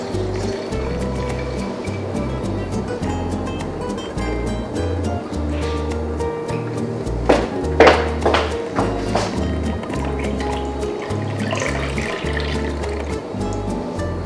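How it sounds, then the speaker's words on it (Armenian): About 750 grams of water pours into sourdough bread dough in a home kitchen. It makes a steady, close splashing and gurgling for several seconds, with no talking. "750 գրամ էլ ջուր եմ ավելացնում։"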